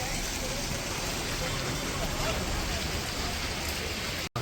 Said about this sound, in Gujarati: ગાજવીજ સાથે વરસાદ ચાલુ થયો છે